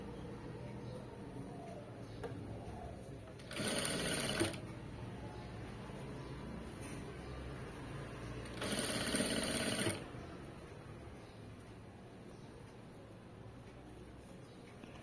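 A sewing machine stitches thread piping in two short, quiet whirring runs over a soft, steady background hum.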